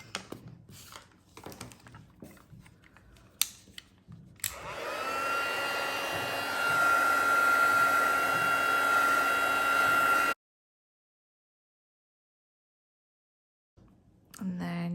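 A heat tool warms embossing powder on a greeting card, its loud steady blowing roar starting after a few soft taps and voice sounds, running several seconds, then cutting off abruptly into silence before talk resumes.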